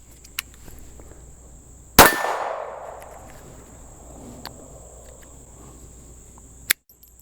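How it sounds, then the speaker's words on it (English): KelTec P17 pistol fired unsuppressed with high velocity ammunition: one sharp, loud close report with a ringing decay, a faint click before it and another short crack near the end, over quiet outdoor background. "Let's go ahead and do a function test on the weight with an unsuppressed pistol here."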